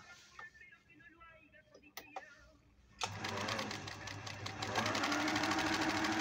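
A Singer zigzag sewing machine starts up sewing a straight stitch, its rapid mechanical chatter beginning midway after some handling clicks and quiet speech, then running steadily and close.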